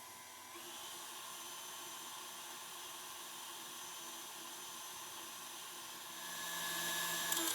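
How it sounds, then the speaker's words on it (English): An electric mixer whirs steadily while creaming ricotta cheese and sugar for cannoli filling, a constant high motor whine that rises in pitch and loudness toward the end, heard alone. "an electric mixer will work best"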